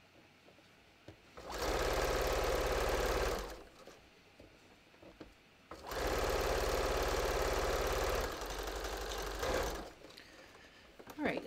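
A sewing machine runs in two sustained bursts while a bathrobe is sewn, loud and steady, with quiet pauses in between and a brief spoken word.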